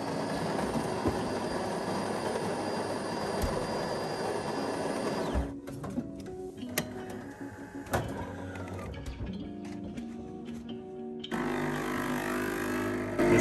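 A Delonghi Magnifica coffee machine grinds coffee beans with a loud, dense whirring buzz for several seconds, then stops and gives way to scattered clicks and mechanical knocks.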